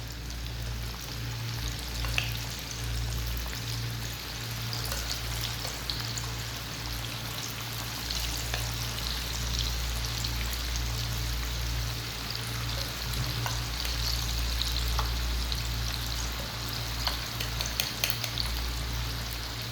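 Pakoras sizzle and crackle steadily in hot oil, a continuous bubbling fry with scattered pops and no talking.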